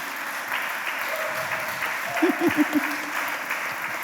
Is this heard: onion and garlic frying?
no